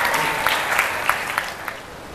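Short burst of audience applause at a book-writing workshop with Gramedia, a steady wash of clapping with a few sharper claps standing out, fairly close and fading slightly toward the end.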